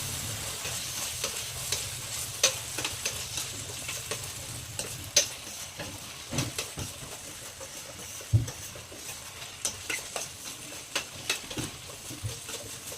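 Spiced gobi manchurian mixture with coriander powder, garam masala and salt being stirred, giving soft scraping strokes and repeated clicks of the spoon against the vessel over a low background hiss, quiet and close.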